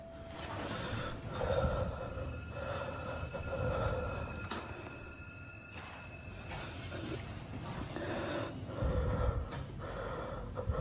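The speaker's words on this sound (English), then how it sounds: "Quit breathing in the mic." Close breathing and snorting right against the microphone, quiet and recurring in slow bursts over a faint background hum.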